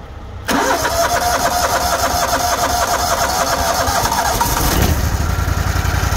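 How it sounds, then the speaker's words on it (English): Engine of a grain-hauling vehicle starting in cold weather on premium gas and running roughly: a quiet lead-in, then a loud catch into a steady uneven idle that continues close and alone. "this engine is not running awesome"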